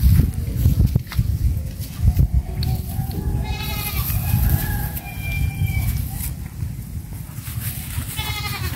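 Goats being herded bleat repeatedly, several calls rising and falling over a rustling, low-rumbling outdoor background, fairly close, with a rooster or bird faintly mixed in.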